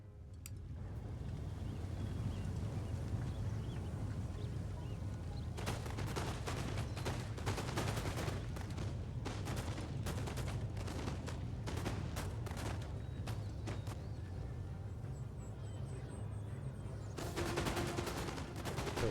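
Musket volleys in Empire: Total War crackle in ragged bursts, rolling fusillades of distant gunfire that repeat through the middle and again near the end over a low battlefield rumble.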